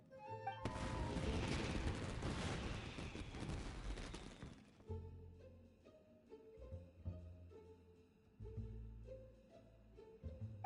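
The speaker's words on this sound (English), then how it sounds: "this is turning into a bit of a fireworks display" A fireworks display in the video game Genshin Impact set off by Yoimiya: a dense burst of crackling booms and pops up front, then scattered bright bangs over game music.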